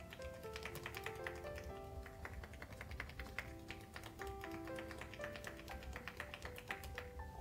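Loose-handed percussive tapping massage on the shoulders: a rapid, steady patter of soft, light slaps, continuous and fairly quiet, with no talking.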